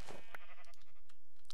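A sheep in Minecraft with the Pixelmon modpack gives a single short bleat, loud and close, cut off within about a second.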